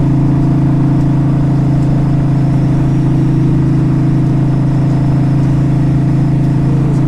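A 2005 Honda Shadow VLX 600 four-speed cruiser motorcycle rolls along at 55 mph, its engine a loud, steady low drone with a rumbling hum and wind rush, unbroken throughout, with no speech.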